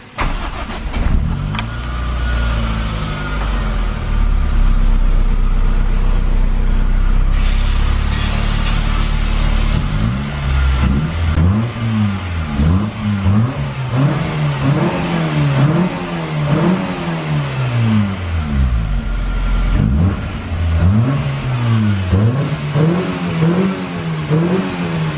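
A Toyota Starlet engine fitted with a nitrous kit cranks and catches, then settles into a loud, steady idle broken by repeated throttle blips that rise and fall at close range.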